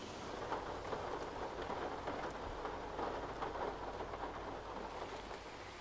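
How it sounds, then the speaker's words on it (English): Steady rain falls continuously and fairly softly, with a faint low rumble of distant thunder beneath the dense patter of drops; no voices are heard. "It's raining again."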